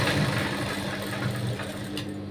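A sewing machine runs a small, neat edging stitch along a blouse, its motor giving a steady, close, fairly loud whirring hum that continues without a break and with no voices.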